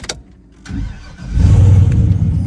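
A turbocharged truck running on fresh 93-octane gas starts up. The starter cranks briefly, then the engine catches and settles into a loud, deep, rumbling idle, close by with no talking.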